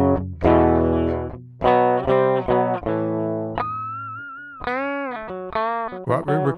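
Clean direct electric guitar signal with the effect plugin bypassed, several picked notes and chords ringing out in separate phrases with decays between them, loud and close with no talking.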